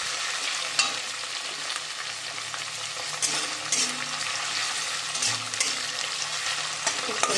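Dried fish frying in a pan on a gas stove, a steady bright sizzle with scraping stir strokes of a spatula against the pan throughout.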